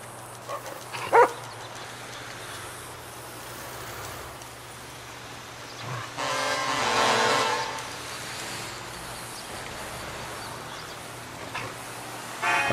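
Dog barking in the video game GTA V, a couple of sharp isolated barks with a louder stretch of vocalising midway, set against a low, steady ambient hum with no talk.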